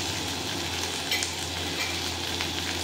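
Sliced okra roasting in a hot pan, giving a steady, close sizzle and fry with no voices.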